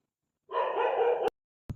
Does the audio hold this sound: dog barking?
yes